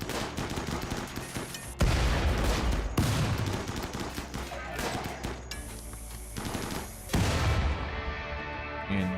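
Rapid automatic gunfire in a multiplayer shooter game on a shallow-water map, loud and close, sustained in long bursts with brief sharp breaks and no talking.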